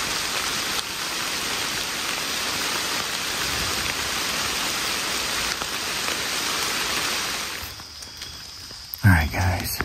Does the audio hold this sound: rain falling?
yes